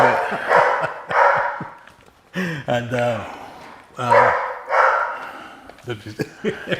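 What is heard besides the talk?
dog barking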